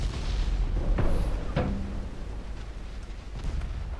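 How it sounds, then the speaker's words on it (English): Torpedo hits detonating against warships in the naval video game Ultimate Admiral Dreadnoughts, two or three sharp booming impacts in quick succession over a low rumbling background. "I've scored 2 torpedo hits. Okay, here are my torpedoes hitting stuff."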